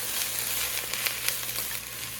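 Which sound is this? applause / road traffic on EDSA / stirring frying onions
stirring frying onions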